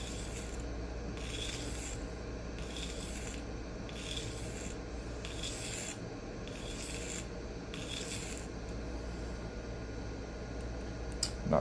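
Tanto-shaped knife blade sharpened freehand on a diamond plate, a series of about eight rhythmic rasping strokes, each roughly a second long with short gaps between, close and fairly quiet, with no talk.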